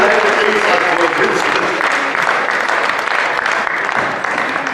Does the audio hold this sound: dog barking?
no